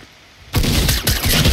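Sustained burst of video game gunfire, loud and dense, cutting in abruptly after a quiet lead-in and continuing as a rapid volley of shots.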